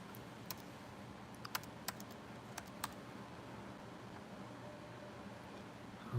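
A zip code is typed on a computer keyboard in a handful of quick, sharp key clicks over the first three seconds, then the room goes quiet with a low hum.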